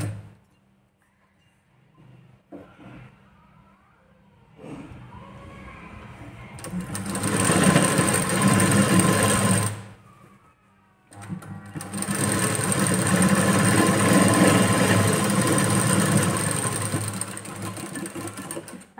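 Sewing machine stitching blouse pieces together, running loud and close in two long steady bursts separated by a brief pause, with quiet handling sounds before it starts.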